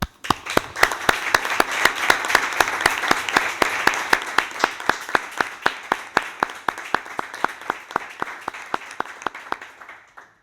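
Applause rises in a council chamber during an ordinary September plenary session of Alhaurín el Grande town council, with sharp rhythmic claps over a dense, steady wash of clapping that thins and fades out near the end.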